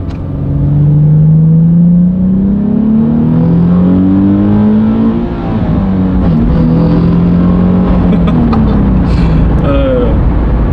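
Nissan 370Z sports car accelerating hard, its engine note climbing in pitch through repeated rising sweeps, loud and steady from inside or close by, with faint talk under it.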